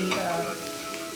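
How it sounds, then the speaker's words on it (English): Crushed garlic sautéing in sesame seed oil over low to medium heat gives a soft, steady sizzle, quiet and close, fading slightly after a brief louder start. "I have crushed garlic. Just gonna saute with sesame seed oil."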